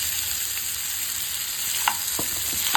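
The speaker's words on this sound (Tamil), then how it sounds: "அதை சேர்த்து வதக்கிட்டு இப்போது இதையும் நம்ம சேர்த்துக்கலாம்" Cumin and curry leaves sizzle and fry steadily in a hot pan, with a continuous hiss and a few sharp crackles and stirring clicks near the end, no voices present.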